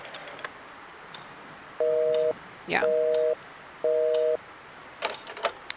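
A telephone line tone in the video game Scratches sounds as three evenly spaced steady beeps, each about half a second long, with a brief voice between them and faint background clicks.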